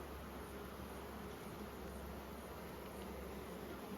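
Honey bees on hive frames at an apiary in Nymboida hum in a continuous, even drone, close and fairly quiet, with no voices.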